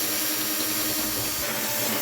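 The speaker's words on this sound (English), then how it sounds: "I just used some water to help suppress any sparks while I was drilling into the barrel" A drill bores into an old metal barrel wetted with water, giving a steady, close grinding rasp with a faint uneven scrape that runs without a break from start to finish.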